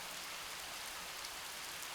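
Steady, soft autumn monsoon rain falling, a continuous fine hiss with faint scattered drops and no voices.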